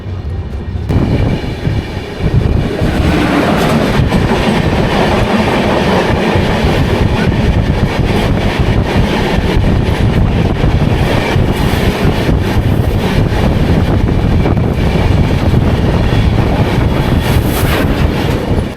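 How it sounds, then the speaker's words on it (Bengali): The 13152 Kolkata Express, pulled by a heavy engine, rolls into Dehri on Sone station: a loud, steady rumble from inside the train with wheel clatter and rail noise throughout, and no talking. "আমাদের ট্রেন প্রবেশ করলো দেহেরি অন সোন স্টেশনে"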